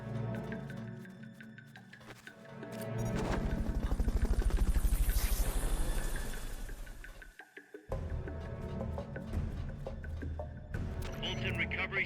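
Helicopter rotor sound in the video game Metal Gear Solid: Peace Walker, a rhythmic chopping that rises to a loud peak mid-clip and then cuts off, amid game music and effects.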